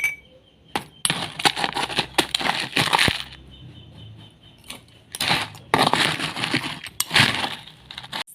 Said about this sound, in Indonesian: Kemudian kita masukkan es batu ke dalam